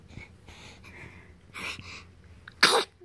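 A single sharp sneeze bursts out near the end, loud and close, after a stretch of quiet room sound with faint breaths and soft vocal noises.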